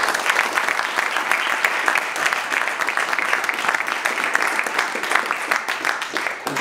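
Audience applause at the close of a conference presentation, a dense, steady crowd of clapping hands held evenly throughout, fairly close, with no voices over it.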